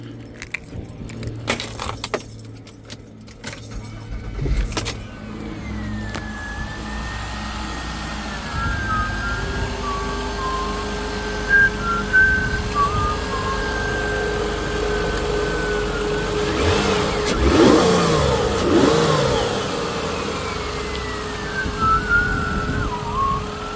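Keys jangle first, then a car engine cranks and catches just after its intake has been refitted, settling into a steady run with a couple of revs, close by and fairly loud.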